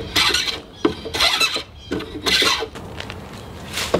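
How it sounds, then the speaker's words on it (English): Someone chamfers the top edge of a wooden window screen frame for a historic house. Four or five short, raspy scraping strokes come up close, separated by brief pauses. "I'm gonna ease the edge or chamfer the top because it'll make it fit a"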